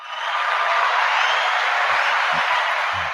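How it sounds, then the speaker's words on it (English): Applause played on a radio show, a steady wash of crowd clapping filling the whole stretch at constant loudness, with a few low thumps near the end. "and I want to give her some applause here"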